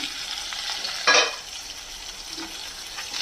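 Flat beans fry in a pan for Bengali poppy-seed curry, a soft steady sizzle with one sharp louder burst of hissing and stirring near the start, then fading back to a low crackle.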